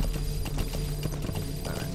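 Horse hooves clip-clop in Metal Gear Solid V: The Phantom Pain, a steady run of soft thuds over a dense, constant game soundscape with a low hum, no talk.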